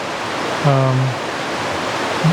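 Betty's Creek in northeast Georgia, a tributary of the Little Tennessee River, rushing in a loud, steady broadband wash of flowing water, with a voice briefly speaking over it.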